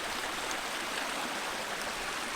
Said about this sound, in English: This little water, little riffle.